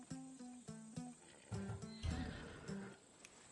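Horse whinnying in Assassin's Creed Odyssey, a close, clear call with a series of rising and falling neighs followed by a couple of snorting, huffing sounds, alone without talk.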